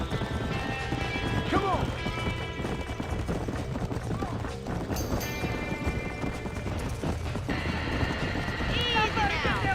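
Hooves clatter in a busy rhythm as horses are led from a burning barn in the video game Red Dead Redemption, with horses whinnying and people shouting urgently over the commotion.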